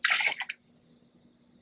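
Water poured from a small bowl into another bowl, a loud splashing gush at the start that quickly tapers into faint trickles and a few scattered drips.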